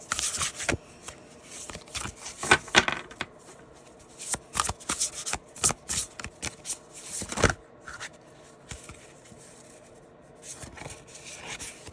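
Tarot cards shuffled by hand close up, with repeated riffling bursts and soft rubbing and slapping of the deck in an uneven rhythm, fairly loud with brief pauses between flurries.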